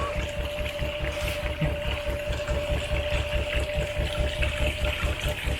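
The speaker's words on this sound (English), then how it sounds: "You can see the machines, see the actual engine is shaking it." An old engine-driven machine runs in a disused mill shed, giving off a steady rhythmic thumping and shaking with a constant mechanical hum and a faint whine, fairly quiet and unbroken throughout.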